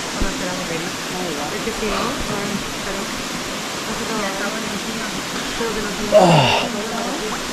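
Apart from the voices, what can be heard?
water flowing through a sluice gate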